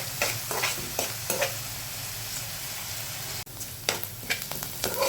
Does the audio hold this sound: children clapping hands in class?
no